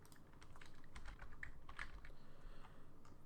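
Quiet, rapid keystrokes on a computer keyboard as a password is entered during wallet setup, irregular clicks in quick bursts with faint background hum.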